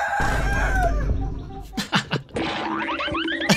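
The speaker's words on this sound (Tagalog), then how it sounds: "Parang tumatawa pa yung mga manok." Chickens making loud nearby clucks and cackles, with a short crowing-like call and a few sharp bursts mixed into a noisy backyard background.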